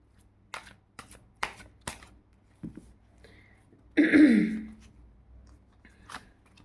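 Tarot cards are gathered and shuffled by hand: a few crisp, separate snaps and flicks, then a longer rustling riffle. Close and fairly quiet, with no talking.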